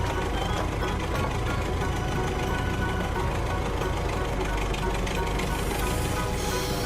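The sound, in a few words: cartoon excavator engine running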